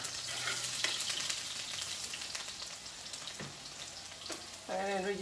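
Dried ingredients frying in a pan make a continuous, close sizzling hiss with light crackles, and a voice briefly cuts in at the very end.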